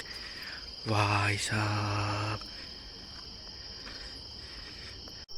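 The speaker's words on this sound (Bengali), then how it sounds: "ঝিঝি পোকার ডাক" Crickets chirp in a steady, high-pitched drone throughout on a foggy winter morning among trees, while a voice briefly speaks near the start.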